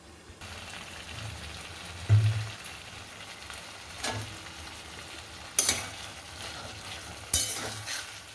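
Food sizzles steadily in a frying pan while a utensil stirs it, with a few louder scraping clanks of metal against the pan breaking through the constant crackle.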